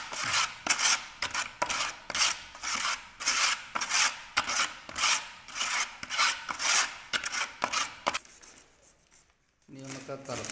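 A putty blade mixes parts A and B of a two-part tile epoxy, making steady, rhythmic rasping and scraping strokes close up that repeat about twice a second before fading near the end.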